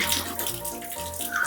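Water splashes over a man as someone pours it onto him, a short steady wash of splashing with no one talking.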